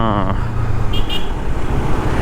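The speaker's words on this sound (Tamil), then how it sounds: "யாரும் ஹார்ன் அடிச்சுட்டே வருது" A car horn honks briefly amid steady road traffic noise, heard from a motorbike, with a voice speaking over the rumble of passing vehicles.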